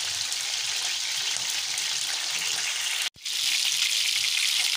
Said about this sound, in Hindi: ये गोश्त हमारा फ्राई हो रहा है